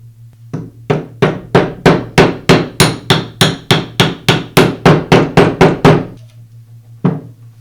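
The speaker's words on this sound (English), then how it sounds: "I'll seat the bearing back onto the armature shaft using a socket that has a diameter the same as the diameter on the inner bearing race." A hammer strikes a socket to seat a front bearing onto a Makita grinder armature shaft: about seventeen loud metallic blows in a steady rapid rhythm, then a pause and one final strike, close and with no talk.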